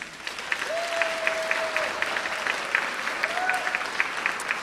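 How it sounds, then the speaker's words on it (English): Audience members at a healthy-aging community event clap together for the hosting community life team in continuous, lively applause, with a thin whistle-like tone rising briefly above the clapping. "So a round of applause for everyone."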